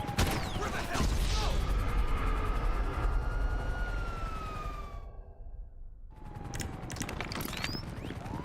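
Police car siren in GTA Online wails loudly over chaotic gameplay noise and gunfire, briefly cut off mid-clip before resuming, with some talk.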